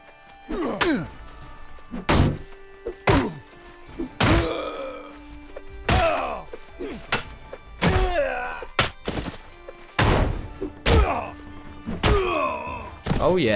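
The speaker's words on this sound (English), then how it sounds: "I'll go for a one-handed sword with a shield." Medieval melee combat in a video game, one-handed sword and shield, produces a string of heavy thuds, whacks and clanking impacts at irregular intervals, with grunts and brief voices between blows.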